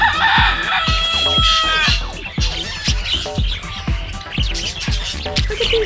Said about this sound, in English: Look at these turkeys and the parrots.